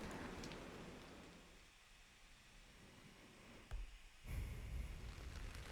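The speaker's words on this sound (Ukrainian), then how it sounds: "Посеред дощу, що стукає по землі" Rain pattering on the ground in the video game Absent in the Rain: a soft, continuous hiss of rainfall at low level, with a sudden dull thump partway through and slightly heavier rain after it.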